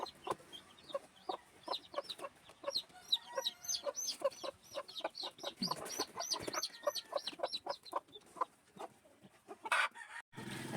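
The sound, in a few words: chicken clucking, Gold hen with chicks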